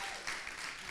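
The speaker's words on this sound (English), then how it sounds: "Hold for applause." A brief burst of dense audience clapping at a student union election event, steady and moderately loud for about a second.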